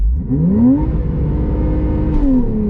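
Porsche 911 Targa 4S launching hard from a standstill, its engine rising in a loud, continuous rev with a pitch climb, a brief dip at a gear change and a second rise, heard from inside the car.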